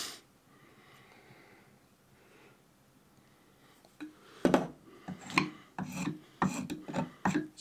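A Shinto rasp shapes a wooden handle for a mini sledgehammer, starting quiet and then giving a series of loud, close, rough scraping strokes in an uneven rhythm over the last few seconds.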